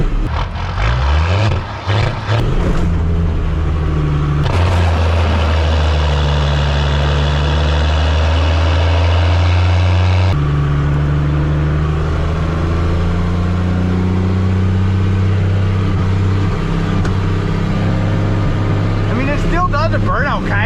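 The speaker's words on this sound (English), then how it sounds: "The burnout, kinda." A 1979 Ford truck on big tires attempting a burnout, its engine loud and close, droning and revving with pitch shifts over a long stretch while people talk.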